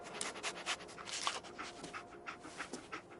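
Dogmeat, the companion dog in Fallout 4, pants in quick rhythmic breaths, close and fairly loud, with no talk over it.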